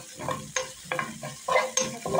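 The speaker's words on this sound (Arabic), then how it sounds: "انا في نفس الجريل اللي شلت منه الشيش هبدا احط معلقه توم وسط كده" Garlic stirred and frying on the same hot grill pan used for chicken shish tawook, giving sharp scraping stir strokes over a steady low sizzle, several distinct clatters through the short stretch, no talking.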